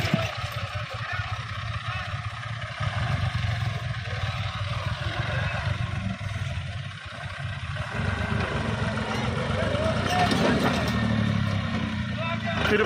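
A John Deere 5055 tractor stuck in a tyre-pulling contest strains with a heavy, continuous engine roar that rises toward the end, while people talk over it.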